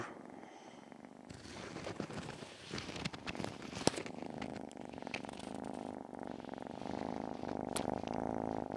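A pet cat purring close by, a steady low continuous rumble that persists under occasional scratchy handling noises and brief clicks, with no talking.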